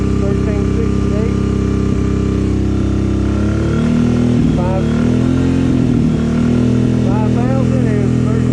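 A Suzuki V-Strom 650 motorcycle engine runs steadily, holding raised revs near 4,000 to 5,000 RPM with a constant drone and slight swells, while someone talks over it.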